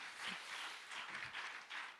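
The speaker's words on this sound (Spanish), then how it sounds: "Denle un fuerte aplauso al Señor Jesús" Faint, distant clapping from a church congregation applauding during a worship service, a soft wash of hands rising and falling in brief swells.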